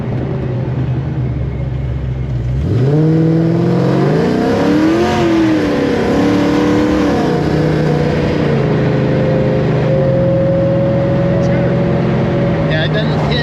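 Supercharged Coyote V8 in a 1979 Fox body pace car revving from a steady idle, climbing through several loud rises and falls with a rising blower whine, close up and continuous.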